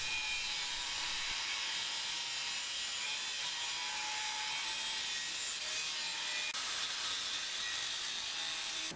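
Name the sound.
chamfering an aluminium Yamaha T-Max scooter frame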